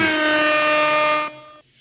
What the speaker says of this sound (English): let me give you an air horn.